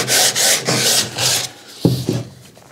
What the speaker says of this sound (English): I have been sanding on this for about 10 minutes with this little piece of sandpaper here